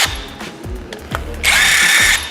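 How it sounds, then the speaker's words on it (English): Power tool on Porsche Macan cylinder head bolts during an engine rebuild after water damage: short drill bursts, then a longer loud whirring run near the end, close by with no talking. "Our head bolts have been loosened by Osianda there"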